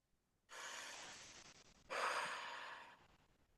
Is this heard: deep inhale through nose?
yes